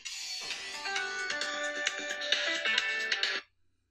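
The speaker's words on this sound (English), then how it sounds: "I'm about to get a call." A phone ringtone signalling an incoming call, a bright electronic melody of repeated chiming notes lasting a few seconds before cutting off abruptly into silence.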